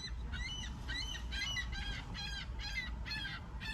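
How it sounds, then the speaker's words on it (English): A seagull calls repeatedly outdoors, a run of about eight harsh, honking cries in steady rhythm, clearly audible over a low rumbling background. "I don't know if that seagull approves or is mad at me."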